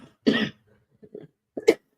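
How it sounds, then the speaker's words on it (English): A single close, loud cough followed by a couple of softer throat-clearing grunts and a second short cough, in a quiet indoor setting. "We're gonna get this coughing out the way."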